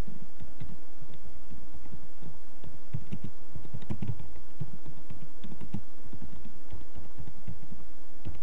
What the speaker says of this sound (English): Type the activity description as preparation of layout drawings.